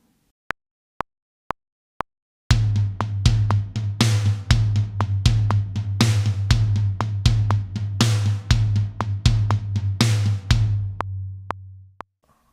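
Four sharp clicks of a count-in lead into a drum pattern of eighth notes on the floor tom, with bass drum and snare accents landing on the beat. The rhythm is steady and close, and it ends in a decaying ring.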